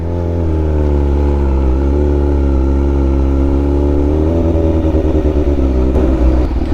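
A Suzuki Raider motorcycle engine revs loudly and steadily up close, a continuous throaty drone with rising and falling pitch that holds for the whole stretch, with no talk over it.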